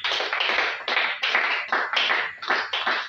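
A church congregation claps in steady rhythmic bursts, roughly two or three claps per second, to acclaim Jesus; the clapping is loud and close, with no talking.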